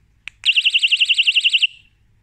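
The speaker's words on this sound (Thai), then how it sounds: "กระดิ่งไฟฟ้าล็อกบล็อกจากเมืองจีน" A Rockbros electric bike bell gives a short click, then a piercing, fast-warbling electronic siren-like tone lasting just over a second before trailing off, loud and close with no talking.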